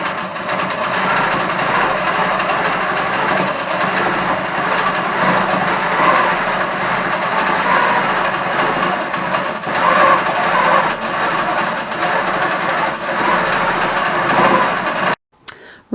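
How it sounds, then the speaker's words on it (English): A Q'nique quilting sewing machine stitches a squiggly vermicelli pattern: a steady, fast mechanical whir and needle chatter running continuously up close, cutting off abruptly just before the end. "I'm just going to quilt a Vermicelli type pattern, this little squiggly type pattern that you might be used to, and this will help me get used to the sewing machine"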